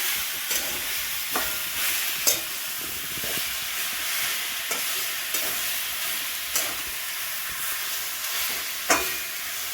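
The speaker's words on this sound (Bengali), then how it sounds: "এবার একটু নাড়তে হবে" Olive chutney with jaggery stirred in a pan over low gas, a steady frying hiss with soft scraping strokes and a few sharper clacks of the spoon against the pan, close and continuous.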